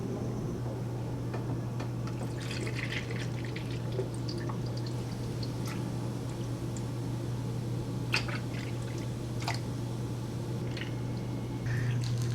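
Coolant is poured into the cooling system of a 1997 Subaru Outback with a 2.5L engine, giving a steady, faint liquid trickle and drip with small splashes under a constant low hum.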